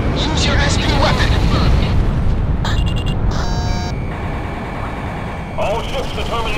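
Booming special weapon explosions in the Ace Combat 6 battle over Gracemeria, heavy rumbling blasts layered with jet roar and bursts of electronic game tones, while radio voices talk over the din.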